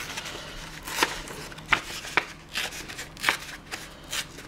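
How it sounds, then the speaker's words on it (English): Paper being torn from a craft bookmark in a few sharp, short rips with soft handling rustle between them, close and fairly quiet. "I will carefully try and rip this out"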